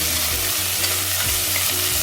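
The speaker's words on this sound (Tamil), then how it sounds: "வெங்காயம் நல்லா வணங்கணும், நல்லா ப்ரௌன் ஆகணும்." Ground onions with a few small onions and curry leaves sizzle and fry in oil while being stirred in a pan, a steady close hiss with soft scraping strokes of the spoon repeating every half second or so.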